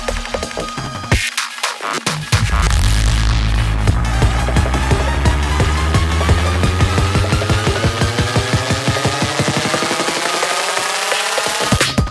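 A rising electronic build cuts to a heavy drum and bass drop, with dense distorted bass and fast breakbeats driving loudly to the end.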